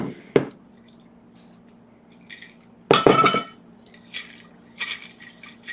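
Soaked pea and wheat seeds rinsed in a glass jar with filtered water, giving two sharp glassy clinks and a burst of splashing and sloshing, then a few faint wet rattles in a quiet room.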